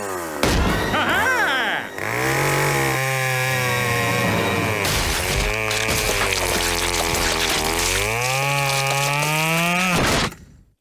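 A cartoon chainsaw roars continuously and loudly, its pitch rising and falling as it revs, then cuts off abruptly.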